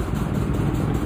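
Superbike engine, a 10RR, idling close by with a steady, rough low rumble throughout a brief moment, no talking.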